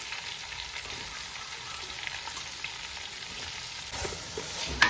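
Sliced onions frying in oil in a pan for a Kerala-style chicken biryani give a faint, steady sizzle that swells slightly near the end, closing with a brief clink.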